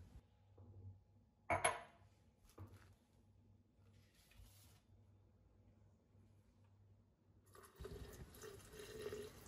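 Water is poured into a glass jar holding eggplant and lemon juice: faint clinks and a short splash early on, quiet stretches, then a soft rushing fill sound near the end.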